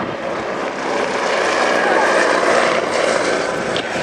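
Helicopter powered by a Rolls-Royce Nimbus turboshaft of just over 300 shaft horsepower flying at an airshow, a continuous broadband engine and rotor roar that swells slightly mid-way, with commentary over it.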